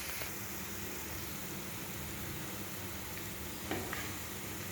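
Onions for egg bhurji sizzle in a pan with a dense, even hiss that holds steady throughout, close up, plus a faint clink near the end and no talk.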